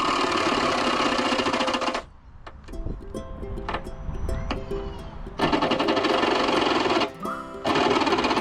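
A saw with the wrong blade cuts a hole through the body panel of a GX 300 series Toyota Landcruiser for a snorkel, a loud continuous buzzing that stops twice and then resumes, close by.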